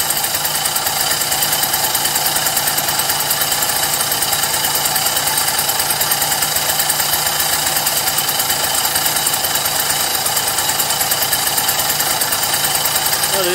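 A Motobecane AV 33 moped with an original, unmodified engine idles steadily nearby, a constant buzzing two-stroke putter with a rapid even pulse and no pauses.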